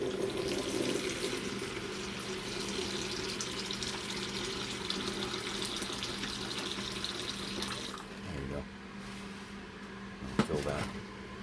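Tap water runs steadily into a pet's water bowl at a sink, a continuous rushing flow that cuts off near the end with a few clunks, with a voice talking over it.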